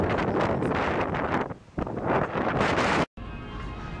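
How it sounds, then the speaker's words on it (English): Strong wind buffets the microphone in a loud, continuous rush that briefly dips, then cuts out for an instant near the end. "Man, it's windy"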